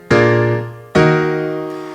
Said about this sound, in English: Now typically a 2 chord is part of a 2-5 progression